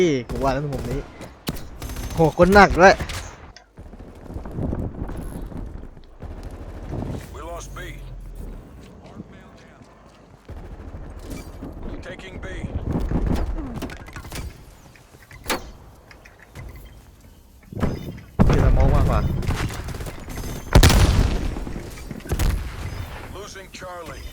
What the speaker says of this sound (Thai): ปืนอะไรวะ ก็หนักเลย